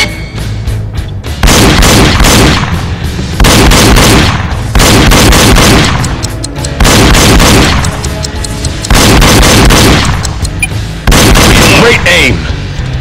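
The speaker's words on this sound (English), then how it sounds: "Shoot targets with the double tap technique." Gunfire in the Nintendo Wii shooting game Reload comes in loud, rapid bursts, five or so volleys separated by brief pauses, with game voice announcements between them.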